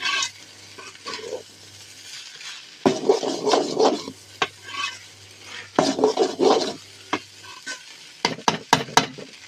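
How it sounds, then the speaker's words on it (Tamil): Beef rice tossed with masala in a pan over a high flame, with bursts of scraping and stirring against the pan over a soft sizzle and a low hum, ending in quick clinks. "நல்லா கலரி விடணும், அப்போ தான் மசாலா தூள் வந்து எல்லா இடத்துலையும் படும்"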